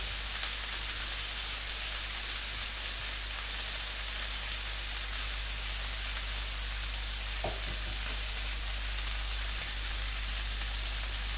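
Steady, broadband sizzling of steak frying in a hot pan, constant and close, with a brief clink of a utensil partway through.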